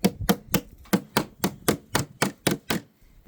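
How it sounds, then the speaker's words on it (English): Ten sharp hammer strikes at a steady rhythm on a metal mounting tab of a DIY solar powerwall battery, each a crisp close impact ringing briefly, with no talk. "then hit it with a hammer"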